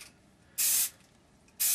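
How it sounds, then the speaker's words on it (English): Grey primer sprayed from an aerosol can onto a Polar Lights 1/1000 scale Enterprise model kit from about six to eight inches away: two loud, close hissing bursts, each under a second long, separated by a quiet pause. "So you really need to, from about 6 or 8 inches away, spray from a distance."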